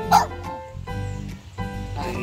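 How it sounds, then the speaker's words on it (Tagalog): A dog barks and yips several times near a kennel at a home, sharp bursts with short whimpering tones between them, close and loud. "nandito yung aso ni Donna."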